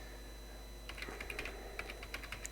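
Soft, rapid keystrokes on a computer keyboard start about a second in, clicking in quick irregular bursts at close range with no voice over them.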